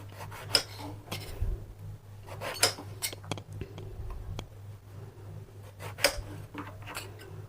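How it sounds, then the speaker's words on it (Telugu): A knife cuts through eggplants on a board, giving a series of sharp, irregular chops and clicks close by with quieter handling sounds between strokes. "మనం ఇలా వంకాయలని ఇలా కట్ చేసుకోవాలి"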